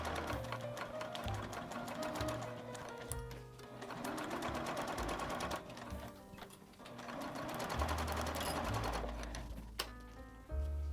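A sewing machine stitches a clear vinyl pouch in close, rapid bursts of needle chatter separated by brief pauses, with the motor whirring up and down and faint handling sounds in between.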